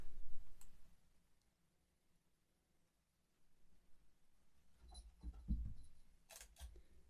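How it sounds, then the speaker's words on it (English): Fujifilm X-E1 mirrorless camera firing its shutter, a few crisp, close clicks separated by quiet gaps, with the sharpest pair near the end. "It's a more definite click for sure, but not horrendous, and but obviously a lot louder than the X100's leaf shutter."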